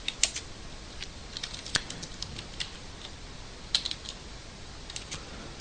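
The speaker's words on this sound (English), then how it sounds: "So I'm just going to type this in manually." Someone types on a computer keyboard in short, irregular bursts of light clicking taps. The sound is close-up and quiet, with no talk.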